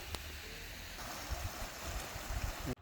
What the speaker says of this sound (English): Water just comes around the bend.